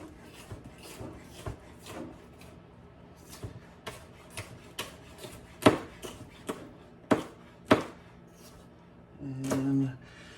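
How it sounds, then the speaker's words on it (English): Knife thinly slicing vegetables on a cutting board for a Thai red curry, a series of irregular crisp chops, some sharper and louder than others, with a brief voice near the end. "cut these all up. Nice and thinly sliced."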